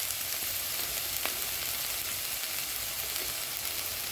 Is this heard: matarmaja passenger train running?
no